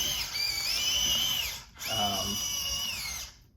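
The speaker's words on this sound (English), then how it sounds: "The motors are really loud" Small motors in a Short Circuit Johnny 5 remote control toy robot whir loudly in two bursts with a brief pause between, a high mechanical whine rising and falling in pitch.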